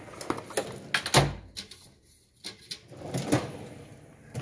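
A Snap-on toolbox drawer slides open with a quick metallic rattle and a sharp clack as it runs out. A few lighter taps and clinks from tools shifting inside follow, close and fairly quiet.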